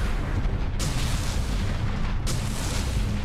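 Two heavy missile shots from a mech in the video game MechAssault 2, each a sharp booming blast with a rumbling tail, spaced about a second and a half apart over a constant low drone.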